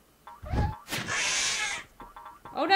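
A cat in the video game Road Not Taken gives a short meow, followed by a hissing burst and another rising cry, close and moderately loud.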